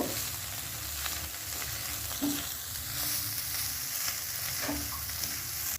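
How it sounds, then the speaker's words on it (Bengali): Carrot, chili and cabbage stir-frying over high flame for a homemade chicken soup, a loud continuous sizzle close by with a few soft scraping strokes of the spatula. "এবার সমস্ত উপকরণ এক মিনিট নাড়াচাড়া করে নেব"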